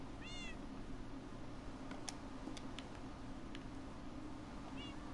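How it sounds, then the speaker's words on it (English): Cats meowing in a Minecraft-style video game, a few short high meows near the start and end over steady game background noise with faint clicks in between. "so if I have the cats here and I go and find a creeper"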